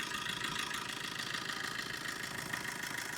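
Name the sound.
Tata Zest 2016 car engine idling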